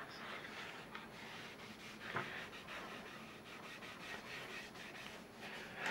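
Stain is rubbed by hand onto a wooden muzzleloader stock, making a soft, steady, close scrubbing rustle with a few brief louder strokes and no talk.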